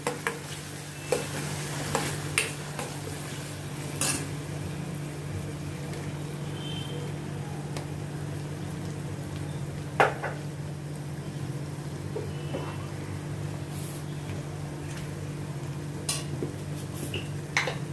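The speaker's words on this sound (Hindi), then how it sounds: "वो भी अच्छी तरह से मैं मिक्स करती हूँ।" Potatoes stirred with tomato sauce in a frying pan while making crispy chilli garlic baby potatoes: a continuous soft sizzle with occasional spoon taps and scrapes on the pan, spaced out over a steady low background hum, with no voices.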